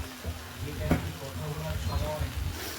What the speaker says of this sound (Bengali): দিয়ে মশলাটা ভালো করে ফের কষিয়ে নিতে হবে।